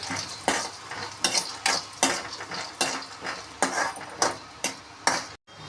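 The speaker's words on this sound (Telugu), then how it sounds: "వేరుశనగపప్పు కూడా వేగినాయి" Peanuts frying in a wok-style kadai for a spicy drumstick-leaf powder, stirred with a metal spatula in steady scraping strokes about twice a second, close and clear over a light sizzle, with no talking.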